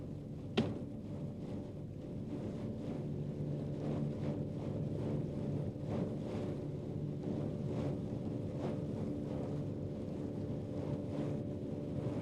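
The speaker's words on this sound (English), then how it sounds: "the only sound we hear is the monotonous purring of our boat engine" Heard from on board in the Sundarbans, a boat engine purrs in a steady, monotonous drone with a low hum and faint harmonic tones. Wind and water noise rush over it, and one faint knock sounds early on.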